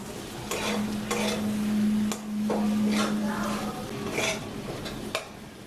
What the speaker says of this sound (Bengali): এবারে সব কিছু সময়ের জন্য নাড়াচাড়া করে একটু কষিয়ে নেব।